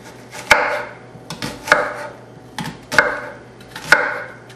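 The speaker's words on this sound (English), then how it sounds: "So to cut your onion, we're going to cut it pretty small dices." A knife chops through an onion on a cutting board, cutting it into small dice with four crisp, evenly spaced strikes, close and fairly loud, each followed by a short scraping tail.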